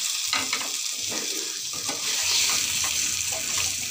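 Potatoes frying and being stirred in a pan with spices and salt, a steady sizzle broken by repeated scraping strokes of the spatula, close and fairly loud, with no talking.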